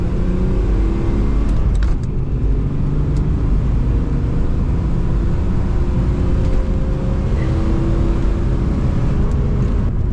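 A BMW E36 engine drones loudly and steadily throughout, a dense continuous car engine roar heard from close by with no talk.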